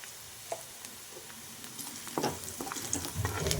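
Curry leaves and turmeric fry in a pan for a spinach dish, a quiet sizzle that builds into louder crackling and spatters over the last second and a half, close by with no voices.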